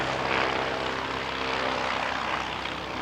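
An aircraft flies near an airport, its engine roar a steady, loud, broadband drone with a faint propeller hum, continuous for the whole stretch with no talk.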